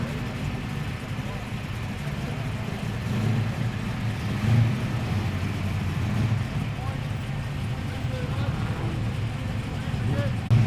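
A tuned Ford Falcon XW muscle car idles with a heavy, throbbing rumble, blipping its revs now and then, with voices faintly underneath at a car meet.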